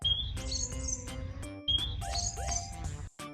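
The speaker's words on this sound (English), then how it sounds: "Tweet, tweet." High chirps and tweets in short repeated phrases, fairly faint, over a low background hum.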